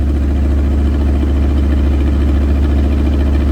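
A 1986 Ford Bronco that sat in a yard for 15 years idles steadily after its first start, with a loud, continuous low rumble and even vibration and no breaks.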